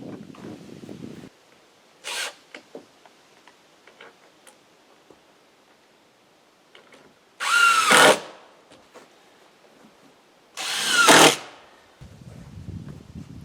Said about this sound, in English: So I'm going to screw that one in.